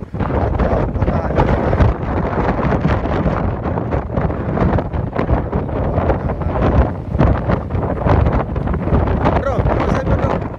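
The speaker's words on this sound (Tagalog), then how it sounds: "Lakas ang hangin." Strong wind buffeting the microphone in loud, continuous roaring gusts, with voices faintly mixed in underneath, in Romblon, Philippines.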